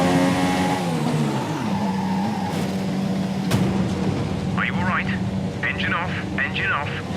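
Racing car engine from the F1 2017 video game, at the Baku circuit during career mode, holding a steady droning whine that shifts pitch early on, with someone talking over it toward the end.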